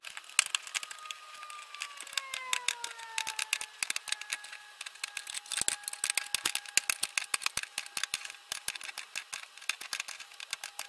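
Tin snips cut through thin sheet metal for a homemade smokeless firepit, giving a run of sharp, close clicks and snaps in an irregular rhythm with faint metallic ringing tones underneath.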